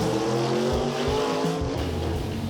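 Rough V8 engine of a 1956 Chevy sedan drag car, a loud steady rumble with shifting revs and no talk.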